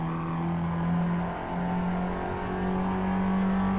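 Ford Fiesta XR2 engine held at high revs during a hard lap of Tsukuba circuit, a steady loud droning note with a brief dip around the gear change, close and continuous with no talk.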